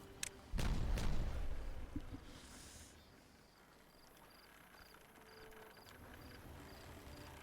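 A dynamite charge detonates in the beaver city-building game Timberborn: one sharp, loud blast with a deep low rumble that decays over about two seconds, leaving quiet game ambience with soft periodic ticks.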